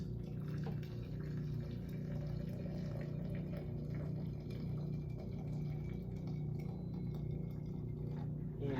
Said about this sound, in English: we're gonna cheat a little bit and get started more quickly with some hot water. I'm gonna put 600 milliliters